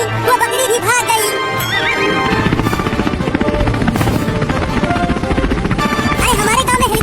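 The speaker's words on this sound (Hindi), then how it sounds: "अरे हमारे गांव में हेलीकॉप्टर," Cartoon helicopter flying over a village, a loud continuous rotor chop with steady throbbing beats, mixed with background music throughout.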